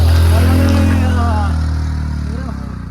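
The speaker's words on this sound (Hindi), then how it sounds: "ये तो बाइक वाले की तो हालत खराब हो गई, पहले गियर पे लेके आ रहे हैं" A motorbike labours up a steep road in first gear, its low engine drone loud and close at first and slowly fading as it pulls away, with a voice talking over it.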